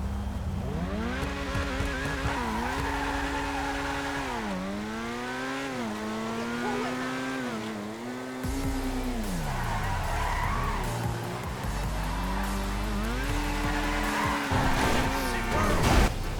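Legendary Motorsport car in GTA 5 Online racing with a loud, rising and falling engine drone through gear shifts, tires skidding and squealing, and a collision near the end, continuous throughout.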